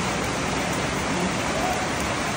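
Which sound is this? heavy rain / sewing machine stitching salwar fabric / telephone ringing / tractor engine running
heavy rain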